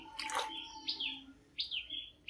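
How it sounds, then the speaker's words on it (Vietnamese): Flowerpecker birds sing in a countryside garden, a few loud, close, bright chirps and short whistled phrases in quick bursts, with no talking. "Chim hót, gà gáy, wow, con chim sâu kế bên nha, lớn họng thật."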